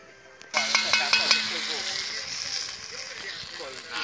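Oil sizzling in a pot outdoors for meat, a broad hissing crackle starting abruptly after a brief quiet moment and holding steady, with a few sharp pops and clinks early on, near and fairly loud.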